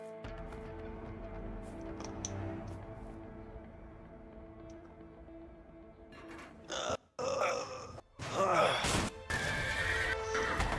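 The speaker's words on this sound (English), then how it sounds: "Oh, hell, the horses are escaping, honey." Horses neighing as they escape a barn in the video game A Way Out: a loud whinny and snorting calls ring out over a low music bed, followed by clattering hooves and crashes near the end.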